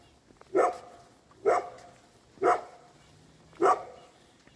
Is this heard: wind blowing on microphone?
no